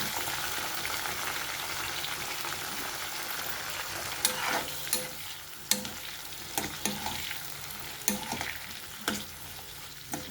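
Brinjal pieces frying in peanut oil, a continuous close sizzle broken by repeated sharp scraping clicks of stirring in the pan, with no voices.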